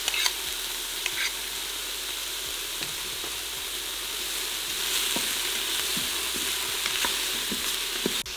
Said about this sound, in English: now that our vegetables are pretty well sauteed